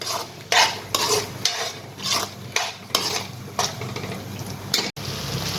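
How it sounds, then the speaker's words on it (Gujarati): Pink sauce pasta stirred in a pan on the stove, a steady run of scraping, wet slapping strokes repeating about once a second over a soft sizzle, close and fairly loud. "હવે આપણે બરાબર મિક્સ કરી લઈશું."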